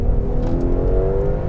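A Ferrari 812 Competizione V12 accelerating on the Fiorano track, heard from onboard as a loud, close engine roar with a rising, layered tone that stays strong throughout.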